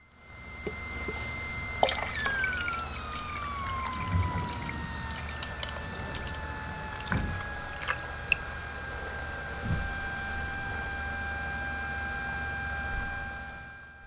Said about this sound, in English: I'll go ahead and take this electrolyte and pour it in.